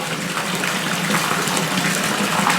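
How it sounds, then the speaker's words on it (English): An air pump bubbles steadily into a fish tank, a continuous dense fizzing and gurgling of water with no voices. "we've got that pump going there, bubbling"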